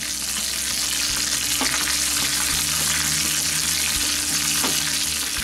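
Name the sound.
tempering sizzling in hot oil with curry leaves and chillies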